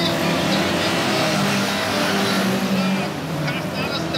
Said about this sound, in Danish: starteren gør klar til at få sendt bilerne her GT standard op til 1976